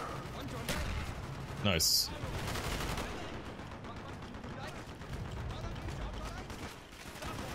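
Gunfire in Call of Duty Black Ops on Xbox One, with sharp close bursts and rattling automatic fire early on, then a steady busy battle din of distant shots, while a player talks over it.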